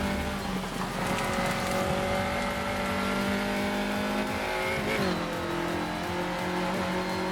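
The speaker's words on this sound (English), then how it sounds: "you can see much smoother braking there, and then a downshift with heel toe." An open-wheel race car in a racing video game brakes and heel-toe downshifts, its loud engine tone dropping sharply with a quick rev blip before settling into a steady drone.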